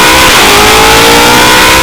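A car exhaust revs loudly and continuously, close and harsh, with a roaring engine drone filling the whole moment.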